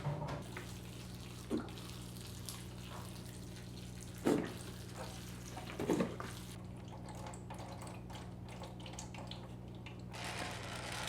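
Water runs steadily as bonsai cuttings of Ming Aralia in a pot are watered, a continuous faint trickling with a few soft knocks, no voices.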